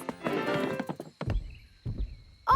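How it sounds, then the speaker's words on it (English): Footsteps approaching in a children's cartoon: a few hollow, knocking clip-clop thuds spaced unevenly, fairly faint, following a burst of music and chatter at the start, with a short voiced sound at the very end. "I can hear footsteps."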